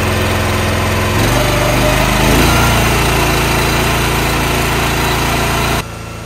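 A Split Force 13/20T log splitter's small engine runs steadily at a loud, even idle hum that rises slightly in pitch partway through, then drops abruptly near the end.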